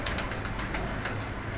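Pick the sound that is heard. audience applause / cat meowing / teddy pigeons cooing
teddy pigeons cooing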